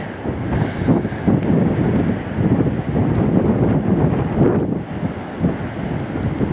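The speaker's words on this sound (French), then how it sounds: "c'est un coup de vent, fort coup de vent, pas dangereux" A powerful gust of wind buffets the microphone in a continuous heavy roar that swells and eases without letup, with no voices.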